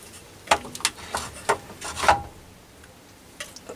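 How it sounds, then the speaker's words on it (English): A Baby Boa strap wrench is fed between the back gears of a Myford ML7 lathe, making a series of short, quiet scraping rasps at irregular intervals, with no talking. "the Boa strap is fed in between the back gears, and it should come up at the back like that"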